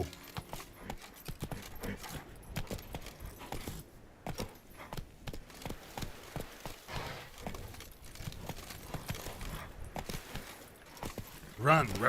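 Hooves of Roach, a horse in The Witcher 3: Blood and Wine, clop in a quick, steady galloping rhythm through the whole stretch, with talking over it at times.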